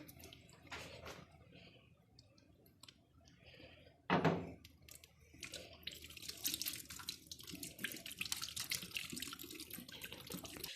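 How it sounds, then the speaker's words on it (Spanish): Running tap water and washing at a sink during handwashing with soap and water, starting quietly, then a sharp splash near four seconds followed by steady, moderately loud water flow. "deben lavarse las manos con agua y jabón"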